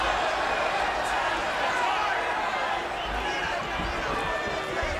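Crowd noise at a boxing match in the WBO super bantamweight title fight between Nonito Donaire and Jorge Arce, a steady, dense roar of fans, with voices heard in it.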